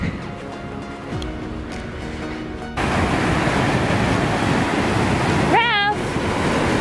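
Broadband ocean surf washing steadily onto a beach, a low continuous rush that grows louder partway through, with a brief high-pitched whine like a dog's whimper near the end.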